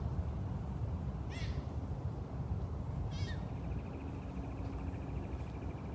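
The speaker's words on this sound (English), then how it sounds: "You hear Pharaoh yelling at us" Two rising, raspy yowls from a big cat at a big cat rescue, spaced a couple of seconds apart, over a constant low rumble of background noise.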